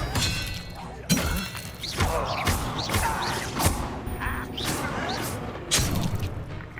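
Spell combat in the video game Hogwarts Legacy: repeated bursts of magical whooshes, crashes and impacts at an uneven pace, with character voices calling out between the blasts.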